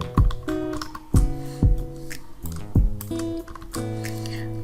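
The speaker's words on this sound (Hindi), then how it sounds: "टाइप करते हैं" Keys click on a computer keyboard in a sparse, uneven rhythm of close individual taps, several separate presses over a few seconds with no talking.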